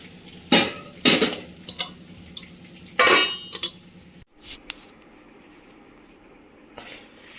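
Serving Telangana fish curry (chepala pulusu) onto a plate: loud clinks and scrapes of a metal utensil against the pot and plate in bursts, then a quieter pause and one final clink.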